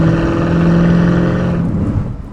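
A 2002 Pontiac Trans Am WS6 with a 5.7 V8 and automatic transmission, its exhaust giving a loud, close, steady rumbling drone that fades slightly near the end.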